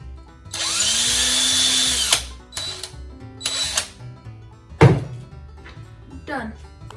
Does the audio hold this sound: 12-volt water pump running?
no